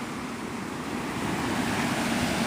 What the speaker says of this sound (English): Just listening to the waves is something.